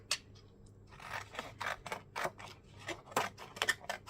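Scissors snip through paper for a junk journal in a series of short, crisp cuts at an uneven rhythm, quiet and close with no voices.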